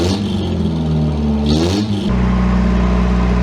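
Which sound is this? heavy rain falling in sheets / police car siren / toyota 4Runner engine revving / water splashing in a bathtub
toyota 4Runner engine revving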